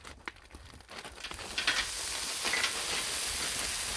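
Frozen stir fry vegetables hit a hot griddle with a soft crinkle, then settle into a loud, steady broadband sizzle that holds without a break.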